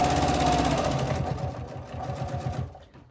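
A sewing machine runs decorative stitches on a crazy quilt block, its rapid rhythmic needle chatter close and loud, slowing and fading out near the end.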